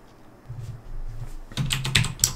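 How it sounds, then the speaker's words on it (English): Keys clatter on a computer keyboard in quick irregular bursts, close and clear, picking up in the second half after quieter taps. "now we can just type in Raspberry Pi"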